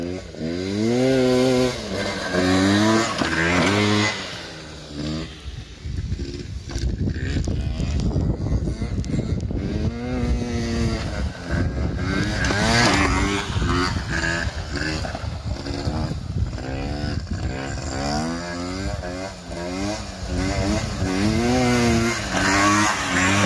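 A Peugeot Ludix scooter engine revving hard during wheelie and freestyle stunts, a loud buzzing two-stroke whine that rises and falls in repeated sweeps, close and continuous across the whole stretch.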